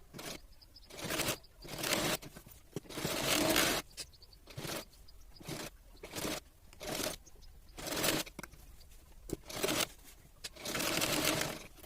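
A sewing machine stitches a princess-cut blouse in about eight short, loud runs separated by quiet pauses, close and alone.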